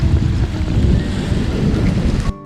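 Steady wind buffeting the microphone over a constant wash of waves on a rocky, pebbly seashore, loud and continuous, dropping off abruptly near the end, with no voices.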